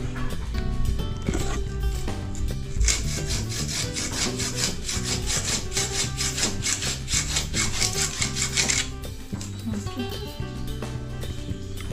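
A hand saw cuts through wood during home repair work, a steady rasping back-and-forth rhythm of repeated strokes running through most of the stretch alongside other background sounds.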